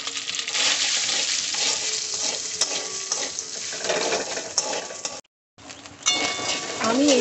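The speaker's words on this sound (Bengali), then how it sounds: "এবার ওই তেলের মধ্যে আমি সয়াবিনগুলোকে দিয়ে খুব ভালো করে ভেজে নেব।" Soybean chunks fry in oil in a wok with a loud, dense sizzle and occasional stirring clinks. The sizzle drops out briefly near the end, then resumes.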